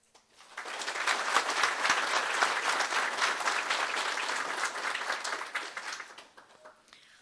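Audience applause at a high school Top 30 and Hall of Fame ceremony in a hall, rising quickly from quiet into sustained clapping from a large crowd, then fading away near the end.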